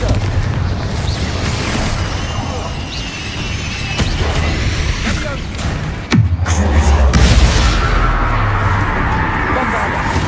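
Confringo spells burst in Hogwarts Legacy on PS5, fired in a mine battle: a run of booming explosions with a sharp blast partway through, followed by rumbling debris, under a spoken incantation and ongoing game noise.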